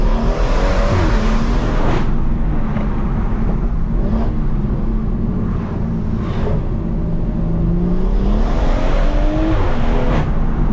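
A stage 2 turbocharged BMW M140i, tuned to 480 bhp, accelerates hard in drive with full throttle, heard loud from inside the cabin. The engine drone rises through several gear changes, with brief dips between shifts, over constant road roar.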